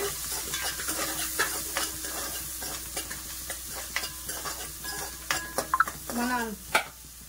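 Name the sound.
stirring aloo chicken curry with turmeric in a pan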